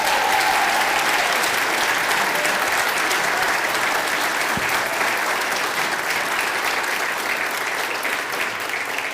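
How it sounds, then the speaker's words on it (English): A concert audience gives a choir a long, even round of applause, sustained clapping from a large crowd in a hall, steady and full from start to finish. "So could you give them another round of applause?"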